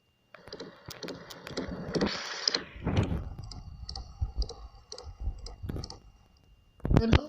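A truck engine idles close by with an uneven, ticking clatter and a low rumble underneath, broken by a few sharper knocks and a louder burst near the end.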